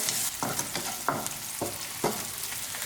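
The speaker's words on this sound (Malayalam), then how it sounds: "ഇപ്പോൾ ചെറിയുള്ളി ആവശ്യത്തിന് വഴന്ന് വന്നിട്ടുണ്ട്" Shallots sauté in a pan for Kerala sambar, a close, steady frying sizzle broken by several distinct scraping strokes of a spoon stirring the pan at roughly half-second intervals.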